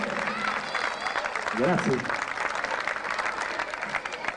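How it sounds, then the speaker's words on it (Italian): Audience applause at an outdoor neighborhood festival, the Festa dei Monti, a steady wash of clapping lasting throughout, with someone briefly speaking over it. "Bellissimo applauso."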